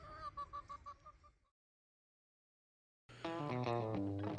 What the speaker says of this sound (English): all these little chickens running around here